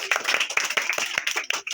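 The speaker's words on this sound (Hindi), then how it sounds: "एक बार जोरदार तालियां अंशु के लिए" Loud clapping for a young contestant named Anshu on a quiz stage, with dense hand claps running steadily through the short moment close to the listener.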